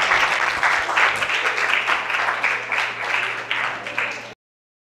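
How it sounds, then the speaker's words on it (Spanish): Audience applause for a doctor after a talk to new students at a university, dense clapping that stays fairly loud and steady, swelling in waves for about four seconds before cutting off abruptly. "un aplauso por favor para el doctor"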